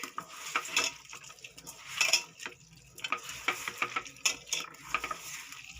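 A ladle stirs tomatoes, onions and masala in oil in a pan, giving close, irregular scraping and clinking strokes with a soft sizzle underneath.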